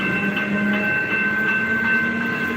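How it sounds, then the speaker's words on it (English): Loud, continuous rumble of a train passing close by, with a steady tonal hum and wheel noise filling the whole moment, no talking. "Fucking train."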